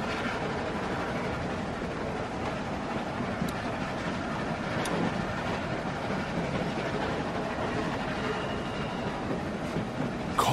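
A train in the video game The Walking Dead: Season One rumbles along steadily, with dense, continuous rolling noise and faint rattling throughout, loud and close, with no talking.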